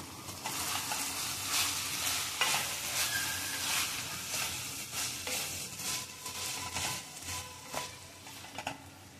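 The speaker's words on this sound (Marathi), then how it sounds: "परतून घेऊया शेवया सुद्धा." Vermicelli roasting in a pan for shevaya upma, with a steady dry sizzle and repeated scraping and stirring clinks of a spoon against the pan throughout, close and continuous.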